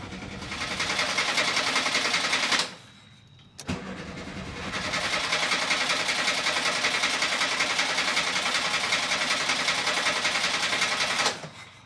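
A classic VW Beetle engine is cranked and started after sitting since January. It sputters briefly, cuts out for a moment, then catches and runs at a loud, steady idle close by.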